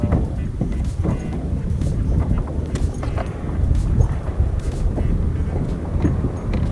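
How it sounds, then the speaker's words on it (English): Outdoor wind in Louisiana buffets the microphone with a steady low rumble and gusty roar, punctuated by faint knocks and rustles, with no one speaking. "I wanted to get out of the wind"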